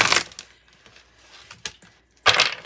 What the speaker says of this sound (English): One more big shuffle, and then I'll split it.